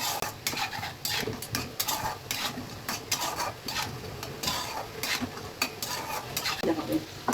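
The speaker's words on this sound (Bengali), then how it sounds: "এবার ফুলকপি আলু দিয়ে খানিকক্ষণ একটু নেড়ে চেড়ে নিতে হবে" A utensil stirs cauliflower and potatoes in a pan, giving rapid, repeated scraping and clinking against the metal over a faint sizzle, close and steady throughout.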